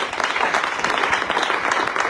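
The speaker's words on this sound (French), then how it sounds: "Acclamons le Seigneur pour cela." A church congregation bursts into steady, dense applause, a continuous wash of clapping hands filling the room from start to finish with no voices standing out.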